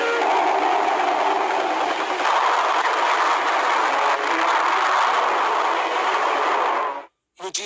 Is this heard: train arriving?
yes